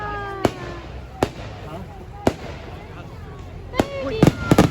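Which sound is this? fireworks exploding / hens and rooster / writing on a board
fireworks exploding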